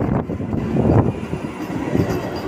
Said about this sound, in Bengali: ফাইনালি মাইকিং করেছে যে ট্রেন আসছে রাঁচি আসানসোল